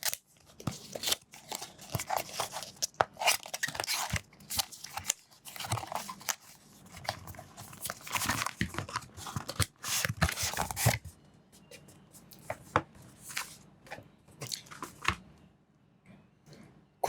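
A Baseus GaN 2 Pro 100-watt charger box is opened up close: dense cardboard crinkling, tearing and rustling for several seconds, then sparser clicks and handling noises.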